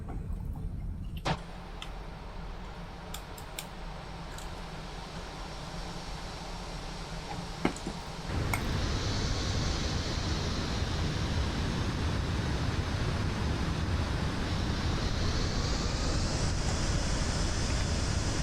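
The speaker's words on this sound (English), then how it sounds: "you can definitely hear the engines are producing a fair bit of power at this point in time, a fair bit of thrust being pushed out" Airbus A320 jet engines on an easyJet flight from London Luton to Edinburgh build up thrust during landing, a quiet cabin hum that swells into a loud, steady roar and rushing whine.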